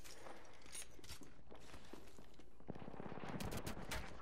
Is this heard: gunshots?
yes